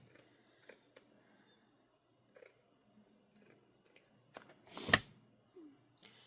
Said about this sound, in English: I really got to cut it smaller because I can't focus with it being that big.